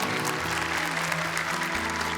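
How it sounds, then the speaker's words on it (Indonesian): Studio audience applause for young Quran memorizers on a TV show, a dense steady wash of clapping throughout, with a low sustained tone running underneath. "Tepuk tangan dong untuk mereka, luar biasa sekali."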